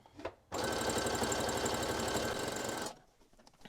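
A sewing machine runs in one continuous burst of fast, rhythmic stitching on neckties for about two and a half seconds, close and clear, then stops.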